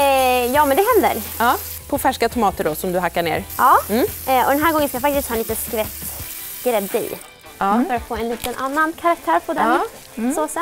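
Halloumi frying in a pan gives a steady sizzle that sits underneath a lively conversation in Swedish, as two people talk almost continuously while cooking a vegetarian dish.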